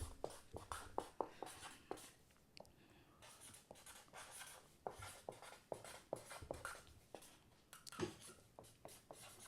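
A pen writes on a piece of paper nearby, a quiet series of short scratchy strokes in irregular bursts with brief pauses, no talk over it.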